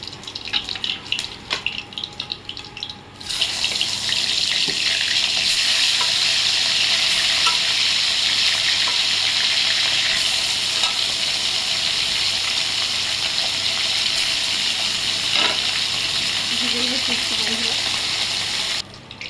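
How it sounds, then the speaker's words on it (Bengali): Koi fish fry in hot oil, a loud, steady sizzle that swells in abruptly after a few quieter seconds of handling and runs unbroken, with faint background clatter and no talk. "আরও কিছু মাছ আছে, এভাবে ভেজে নেবো।"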